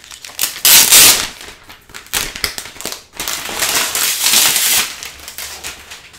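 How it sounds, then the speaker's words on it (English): Protective plastic peels off a new mid-2012 13-inch MacBook Air, giving loud close crinkling and crackling in bursts of tearing and rustling. "Of course, you get that nice sound when you take off the plastic."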